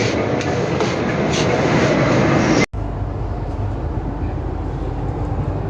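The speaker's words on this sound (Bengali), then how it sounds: "আমরা এখন দিল্লির মেট্রোতে চড়েছি।" A Delhi Metro train rumbles along steadily, heard from inside the car. The constant loud roar breaks off briefly partway through, then carries on.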